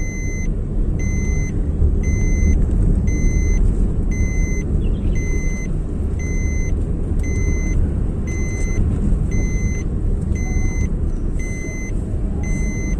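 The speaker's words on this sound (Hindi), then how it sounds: "गाड़ी चल रहा है।" Steady low road rumble from inside a new car driving along a main road, with a repeated high electronic beep chiming at regular intervals throughout, no talking.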